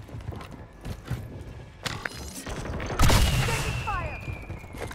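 Gunfire in the Call of Duty video game, a chaotic battle mix with sharp shots and bursts that swell to a loud, dense volley around the third second, with clattering effects and a shouted voice in the fray.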